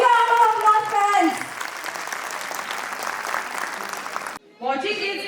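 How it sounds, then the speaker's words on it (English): A school annual day audience breaks into broad, sustained applause, many hands clapping loudly and evenly in a hall, with a voice speaking over the start and again after a brief pause near the end. "Your big round of applause, friends."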